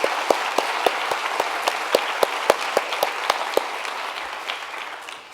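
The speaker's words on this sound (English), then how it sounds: "please give yourselves a round of applause" Conference audience at an opening plenary applauding, a broad crowd clap with distinct louder individual claps punctuating it, gradually thinning and fading out over several seconds.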